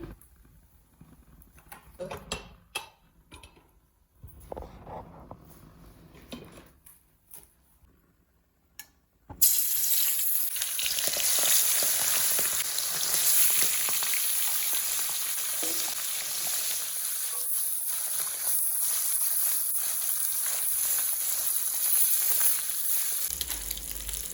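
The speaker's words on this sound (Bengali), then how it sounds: "মাছ ভাজার জন্য দিয়ে দিচ্ছি কড়াতে তেল" Fish hits hot oil in a kadai after a quiet stretch of kitchen movements, breaking into a loud, steady sizzle that keeps frying to the end.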